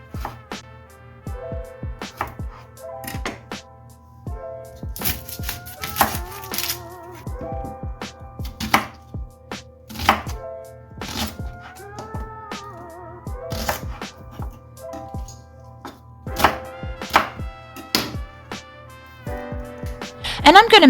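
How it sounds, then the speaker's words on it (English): A knife thinly slices carrots on a cutting board, producing crisp, irregular chops in short bursts over a background of tonal sound. "For the carrots, it's important to cut very thin slices so that they cook properly before serving."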